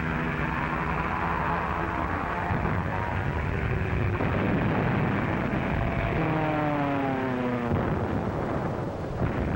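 WWII German dive bombers in a 1942 archival newsreel: a loud, continuous droning of aircraft engines with rising and falling whines as the planes pass and dive, filling the whole stretch with no talk.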